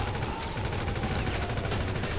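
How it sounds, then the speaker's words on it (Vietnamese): Rapid AK rifle fire in the video game GTA 5 comes as a dense, continuous burst of loud shots with no pauses, harsh and close, with no voices over it. "chứ để mình lấy cái AK ra"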